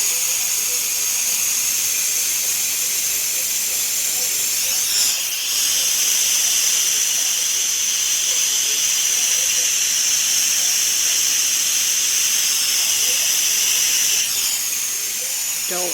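Steam hisses steadily from a cooker, a loud, continuous high-pitched rush that holds unbroken for the whole stretch with only slight swells.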